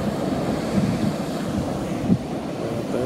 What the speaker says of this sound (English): we enjoyed the rocks and splashing waves